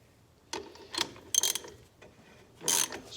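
Jaguar Mk2 overdrive part turned and threaded off by hand, giving several short metallic scraping and ratcheting rasps in irregular bursts, close and fairly quiet with no talk.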